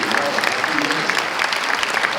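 Audience applause at a Malaysian property market event, a dense steady patter of many hands clapping for a couple of seconds with faint crowd noise.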